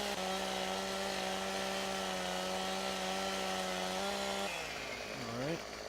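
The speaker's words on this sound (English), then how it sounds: "Get our handy chainsaw out here, and basically we're just going to" Chainsaw in Farming Simulator 17 cutting straight across a log, a loud steady engine drone running continuously for several seconds before dropping in pitch near the end, with a voice speaking over it.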